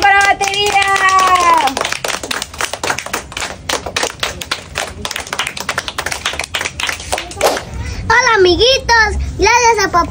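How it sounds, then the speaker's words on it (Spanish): Clapping at a birthday celebration for a dog turning nine, a burst of quick, close handclaps in the middle, framed by high-pitched voices talking before and after. "un aplauso para batería."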